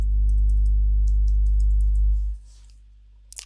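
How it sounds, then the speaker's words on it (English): Typing a Wi-Fi password on a computer keyboard, a quick run of soft key clicks over a steady low hum that drops away partway through, with a final tap at the end. "type in the password"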